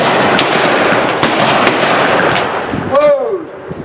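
Rifles fire in volleys at a Victorian rifleman shoot in Bowling Green, Kentucky, a loud, dense crackle of overlapping shots with sharp individual cracks, close by, trailing off into an echo.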